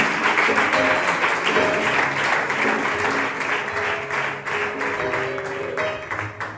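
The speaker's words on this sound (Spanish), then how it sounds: "Puedes darle un fuerte aplauso a Dios con alegría." A church congregation breaks into loud, sustained applause, dense clapping that continues for several seconds before slowly thinning, with a few voices mixed in.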